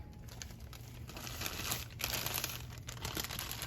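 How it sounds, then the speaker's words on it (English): Chocolate brownie mix is snipped from its packet and tipped into a cereal bowl, a steady close crinkle of plastic and soft pouring rustle with brighter bursts of crumpling throughout. "we're just gonna snip the top and dump it in your favorite cereal bowl"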